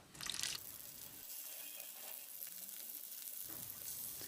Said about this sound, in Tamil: இதில் நறுக்கி வச்சுருந்த உருளைக்கிழங்கை ஃப்ரை பண்ணி எடுத்துக்கலாம்.